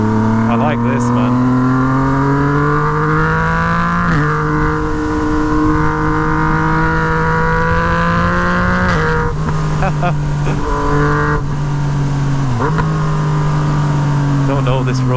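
A Yamaha MT09 motorcycle with a straight-pipe Toce exhaust ridden on a road under rolling throttle, a loud, close, rasping engine drone holding steady and climbing slightly, with a brief dip where a gear changes and a few crackles.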